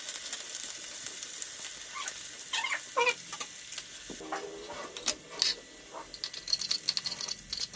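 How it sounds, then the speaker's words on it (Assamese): Onions fry in a pan for an Assamese chicken dish, with a soft sizzle broken by irregular utensil clinks and stirring scrapes that grow busier toward the end. "এইবাৰ 5 মিনিট সময় পিঁয়াজখিনি ভাজিবলৈ দিম।"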